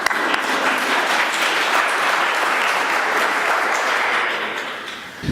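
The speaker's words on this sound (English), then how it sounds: "round of applause" An audience at a court history symposium applauding an incoming president, a broad steady wash of clapping that carries on for several seconds and then begins to fade, with no voices over it.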